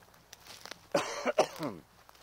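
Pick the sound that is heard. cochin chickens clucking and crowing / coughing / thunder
coughing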